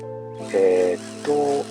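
A hammer drill bores a pilot hole into a large concrete block salvaged from demolition during renovation of a house over 70 years old, giving two short whining bursts close by over a steady hum.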